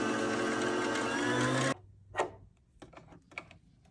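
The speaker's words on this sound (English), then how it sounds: "I need to put some onto a bobbin so I can get sewing" A sewing machine winding blue thread onto a bobbin for a denim mini dress, a loud steady high whir for nearly two seconds that stops abruptly, followed by a few scattered clicks and handling knocks.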